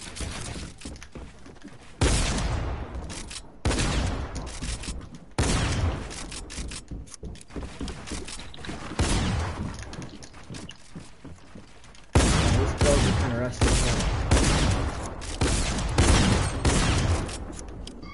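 Rapid bursts of video game gunfire in a shooter match come in loud, dense volleys with short gaps between them, continuing steadily throughout with no voices.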